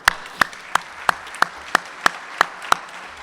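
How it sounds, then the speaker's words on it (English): Clapping at a Rotary Club of Cincinnati meeting, heard as crisp, evenly spaced single claps, about three per second, fairly faint over a quiet room. "I think that deserves a round of applause."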